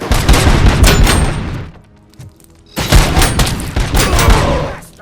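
Gunfire from the video game RoboCop: Rogue City: loud bursts of rapid shots with heavy booms, a brief lull with a faint tail, then another dense volley.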